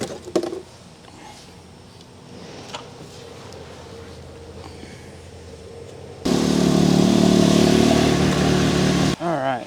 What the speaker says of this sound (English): Let the engine run about 10 seconds and add the rest.